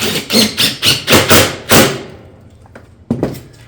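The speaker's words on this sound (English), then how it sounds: "we'll go ahead and put a fastener into that 2x2" A fastener is driven into a 2x2 on a tile roof hip ridge, heard as a quick run of about six loud rhythmic thuds, then a pause and one more sharp knock, all close.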